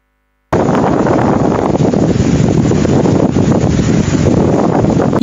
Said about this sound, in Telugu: ఈ గాలి ఎఫెక్ట్ ఏంటి